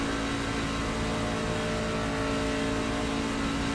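Race truck engine roaring steadily down the long back straightaway at Michigan Speedway, a dense continuous drone with no break, loud and sustained.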